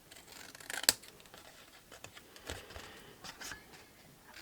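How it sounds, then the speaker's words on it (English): A small pair of scissors snips through paper for an Easter box craft, giving a few crisp close cuts with one sharp louder snip and soft rustling between them. "let's get a small pair of scissors. So we're going to cut all of them the same way."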